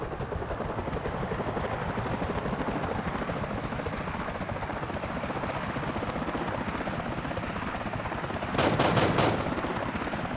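A helicopter in an Unreal Engine 5 game flies with a steady dense rotor roar throughout, joined near the end by a brief burst of rapid gunfire.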